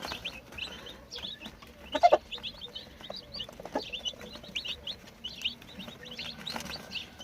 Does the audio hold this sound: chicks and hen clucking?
yes